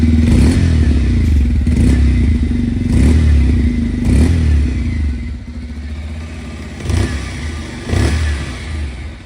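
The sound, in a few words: 125cc commuter motorcycle engine running, heavy thump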